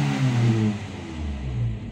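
A Toyota Kijang with a 7K engine running just after its carburetor was cleaned and reassembled, a close, steady mid-low engine drone with slight rises in revs and no speech.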